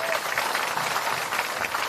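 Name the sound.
crowd applause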